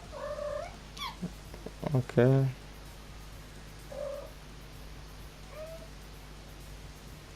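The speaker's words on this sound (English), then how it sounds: "that's just my cat." A house cat yowls in short bursts with a low purring rumble, one loud close call standing out, then fainter calls trailing off; a person briefly says a word.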